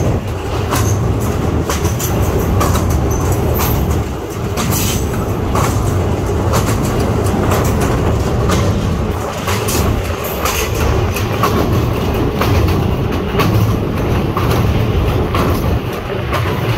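A train pulls out of Saraikhol station and runs on, a loud, continuous rumble with rhythmic clattering of wheels on rail joints and occasional metallic squeals, heard from on board.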